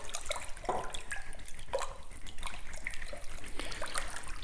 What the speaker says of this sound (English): I'm going to put my hands in the water and I'm going to dissolve the salt